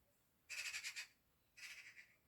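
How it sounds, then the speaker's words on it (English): Two bursts of loud bird calls heard from indoors near a window, each lasting about half a second with a pause between, against a quiet room. "Can you hear those birds?"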